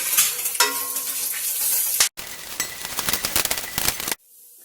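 Urad dal, chili and curry leaves fry in hot oil with a dense, loud sizzle and crackle, broken by a sudden sharp burst of spattering. The frying then cuts off abruptly.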